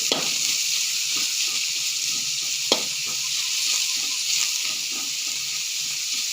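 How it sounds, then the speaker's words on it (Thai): Pork stir-fries in a pan with baby corn, a continuous bright sizzle close by with light scraping stirs and one sharp clink of the utensil midway. "อันนี้เอาหมูลงไปขวาให้มันสุก"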